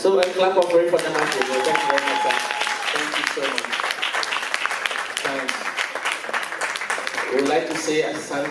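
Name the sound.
audience applause at an awards ceremony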